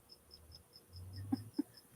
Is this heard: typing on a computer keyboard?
no